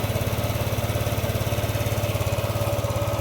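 A Yamaha Aerox 155 V1 scooter idles at a high 2,000 RPM, a steady close-up engine throb with fast, even pulsing and a faint whine above it, continuous and free of voices.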